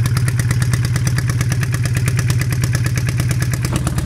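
A loud, dirty motorcycle engine runs steadily in a Kenyan motorcycle workshop, its rapid even firing pulses close and constant with no talk over it.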